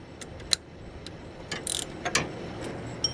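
Ratchet wrench working 12mm power steering pump bolts on a Honda engine, a few faint sparse clicks and metallic ticks at close range in a quiet garage, with no talking.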